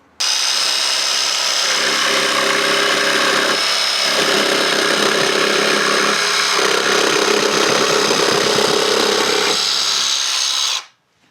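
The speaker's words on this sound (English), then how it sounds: "I'm just going to do a cross cut on this piece of 6x1 pine" An inexpensive power saw fitted with a wood blade cross-cuts a length of 6x1 pine scrap, a loud, steady whining buzz that runs unbroken for about ten seconds before cutting off abruptly.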